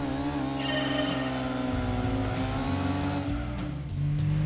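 A Mitsubishi Mirage engine in Gran Turismo 2 revs hard at Midfield Raceway, a loud continuous droning whine that climbs in pitch, drops briefly at a gear change, then rises again, with no talk.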